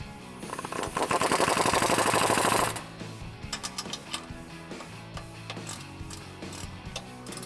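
A wrench tightens a 10mm nut on a running board bracket of a 2015-2018 Ford F150. A dense burst of rapid ratcheting clicks comes first, then scattered sharper clicks and knocks follow, close and fairly quiet, with no talking.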